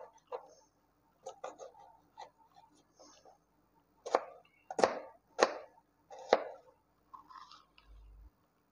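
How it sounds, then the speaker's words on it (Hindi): A knife finely chopping onion on a cutting board, with a few soft scattered taps that build into four or five sharper, distinct chops, close and moderately quiet with pauses between strokes. "अब हम इसको इस तरीके से बारीक बारीक कट कर लेंगे।"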